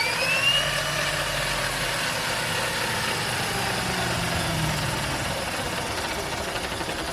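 The electric drive motor of a converted EV VW Bus camper spinning its tires through a motor controller, a steady continuous whirring hum that stays at an even level, slightly louder at the start, with no voices.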